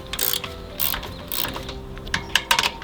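Hex drive loosening the mounting bolts on a side mount ladder rack, giving a series of close, quick ratcheting clicks in short bursts with brief pauses between them.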